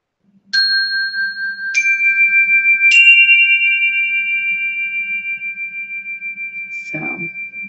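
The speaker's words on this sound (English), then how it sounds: "hope you enjoyed the chimes" Three chime tones struck one after another to open a tarot and divine feminine session, each bright ringing note layering over the last and sustaining, ending with a short soft rustle.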